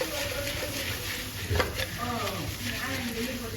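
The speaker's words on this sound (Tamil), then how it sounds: "நல்லா கலக்கி எல்லாத்தையும் ஸ்ப்ரெட் ஆகணும்." Honey garlic chicken fry is stirred in a pan with a steady sizzle, soft scraping and a brief louder clank from the utensil partway through, heard up close.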